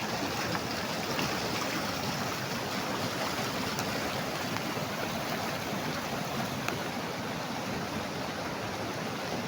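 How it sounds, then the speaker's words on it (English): A mountain river flows through green forest with a steady, full rushing of water that stays dense and constant throughout, close and fairly loud with no voices. "Just enjoy the sound of water."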